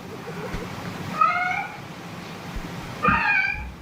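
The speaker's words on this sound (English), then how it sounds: "All right, the cats." Two distinct cat meows, one near the start and another toward the end, fairly clear over low room noise.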